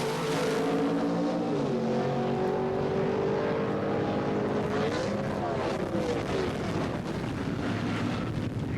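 Two 1977 Pro Stock Chevy Monza drag cars launch on an asphalt strip, a loud, sustained engine roar with rising pitch sweeps as they pull away, heard from trackside amid wind noise.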